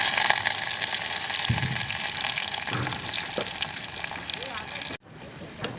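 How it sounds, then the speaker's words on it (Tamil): Small onions sautéing in sesame oil in a pan, a dense steady sizzle with occasional stirring scrapes, close and continuous, cutting off briefly near the end. "கண்ணாடி பதம் வர வரையிலும் வதக்கிக்கலாங்க"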